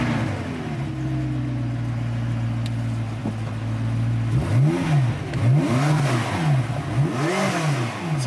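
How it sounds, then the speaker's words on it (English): McLaren car engine idles with a steady low drone, then revs repeatedly through a tuned exhaust in rising and falling surges, loud and close with a crackling edge. "The engine is like the breathing, spitting heart of the car"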